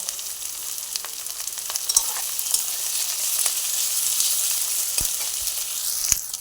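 Slit green chillies hit hot oil and sizzle with a loud, continuous hiss close up, with a few sharp pops and spatters cutting through.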